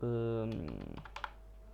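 Computer keyboard typing, a quick run of close soft key clicks following a brief tonal sound, with a few sharper taps near the end.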